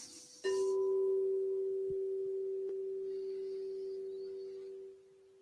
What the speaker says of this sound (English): I just want to just sound a bowl, just for a little bit of resonance to share with each of you